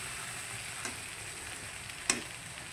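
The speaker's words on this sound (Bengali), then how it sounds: "খুব সুন্দরভাবে ভাজতে হবে" Kachur lati (taro stolons) frying in a pan, a soft steady sizzle with a couple of brief scraping stir sounds, quiet and close with no talking.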